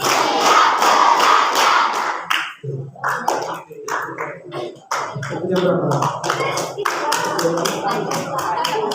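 School students clap together in a hall, first in a loud, steady burst of applause-like clapping, then in short patterned groups of sharp claps mixed with shouts and crowd voices. People speak between the claps.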